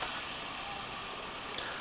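Onion dropped into hot oil in a cast iron pan on a kamado grill sizzles with a steady, bright hiss that stays even and close for the whole moment.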